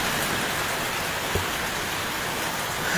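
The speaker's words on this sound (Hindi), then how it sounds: "बारिश काफ़ी ज़्यादा इस समय हो रही है।" Heavy rain pours steadily onto a flooded road in Jammu, a dense, continuous close-up hiss with one brief low thud, no voices.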